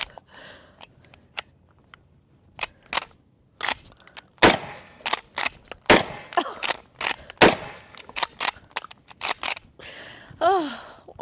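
A shotgun fires bird shot shells in a rapid string of sharp, loud blasts, irregularly spaced and close, with brief quiet gaps between some shots and a short exclamation near the end.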